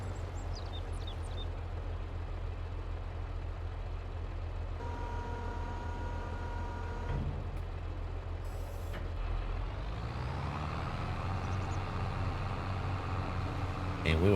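A truck in Farming Simulator 22 lifts its corn-filled trailer and then pulls away, with a steady diesel engine drone, a run of reversing-style beeps midway, and the engine rising as it moves off.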